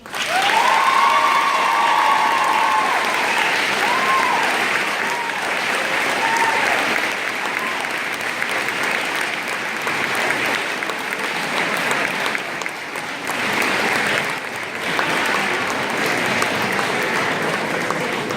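Graduation audience applauds a valedictorian speech with long, sustained, loud clapping, a brief whistle and some cheering near the start, then continuing steadily.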